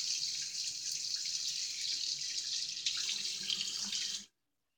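Water runs steadily from a tap onto a shaving brush at a bathroom sink, a close, continuous splashing stream that changes tone partway through as the brush fills, then stops abruptly.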